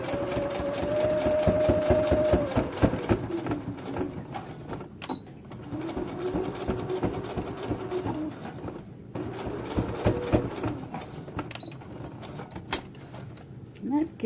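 Sewing machine stitching a fabric 3D face mask, running in several bursts of rapid, even needle clatter with short pauses between, close and fairly loud, with small clicks and handling noises in the gaps.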